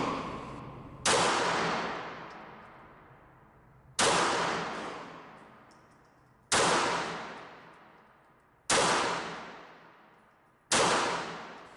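Five single-action shots from a P-64 9x18 Makarov pistol crack out one at a time, spaced a few seconds apart. Each loud report is followed by a long fading echo.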